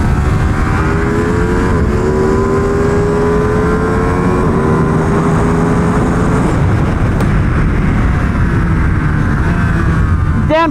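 Italian superbike, a Ducati Panigale V2 or MV Agusta F3 800 RC, revving loudly and continuously as the engine climbs through quick-shifter gear changes, with rising harmonic sweeps and brief dips at each shift.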